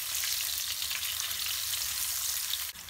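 Sliced onion frying in hot oil in a pan, a steady close hiss of sizzling that holds evenly throughout and dips briefly near the end.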